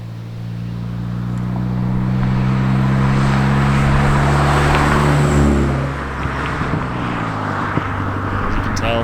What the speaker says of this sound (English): As you can tell, car's driving in drive mode. Very nice and smooth, very quiet.